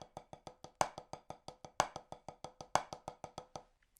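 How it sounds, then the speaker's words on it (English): A paradiddle rudiment played with drumsticks on a drum lesson pad, a fast even stream of crisp taps with regular accented strokes, close and alone. "In the final bar, we are going to do the actual rudiment, which is the paradiddle."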